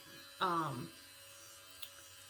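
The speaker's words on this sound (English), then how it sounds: "it actually uses vibrations. Like the head doesn't spin, it just vibrates a bunch." A handheld sonic face cleansing brush with a vibrating (not spinning) head gives one short buzzing burst of under half a second, close and fairly loud, then goes quiet.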